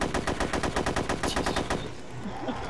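Rapid automatic gunfire from the video game DayZ rattles out in a fast, even burst for about two seconds before stopping, loud and close, followed by a short spoken exclamation.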